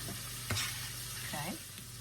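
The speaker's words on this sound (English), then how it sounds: "So you're going to be sauteing the cabbage in there" Cabbage sautéing in a pan for bacon egg roll filling, a steady close sizzle and frying crackle with a couple of brief clinks from stirring.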